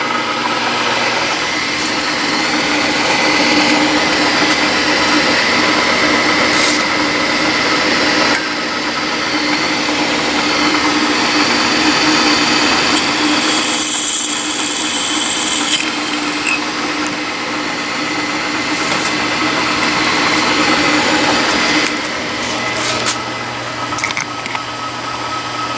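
A metalworking milling machine drills a hole in metal stock, giving a loud, continuous motor drone with a steady cutting whine and small shifts in pitch across the whole stretch, with no speech.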